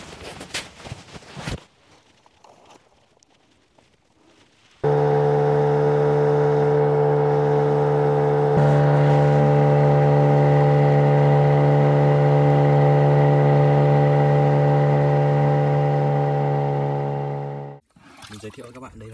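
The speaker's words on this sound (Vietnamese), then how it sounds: "Bây giờ thì mình sẽ nổ máy và chạy về bờ." A small fishing boat's engine on Lake Volta at night roars to life abruptly after a quieter stretch of faint sounds, then runs loud and steady for about thirteen seconds before cutting off sharply.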